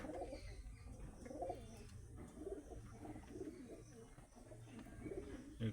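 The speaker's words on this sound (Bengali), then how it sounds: "দুর্দান্ত কোয়ালিটির পায়রা আছে বন্ধুরা।" Pigeons of Shahjahanpuri, Saharanpuri, Andhra and Madras breeds coo in a loft, repeated soft throaty coos from several birds overlapping in a quiet, close space.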